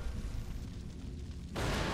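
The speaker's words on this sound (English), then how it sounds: "Such good explosions." A low rumbling hum gives way abruptly to a loud, broad blast of noise from a video game explosion that holds through the final moments.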